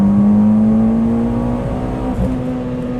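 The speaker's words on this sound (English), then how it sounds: "And that was a wide open throttle pull." A Mitsubishi Evo X MR engine under a wide-open-throttle pull, a loud close steady drone whose tone climbs gradually as the revs rise.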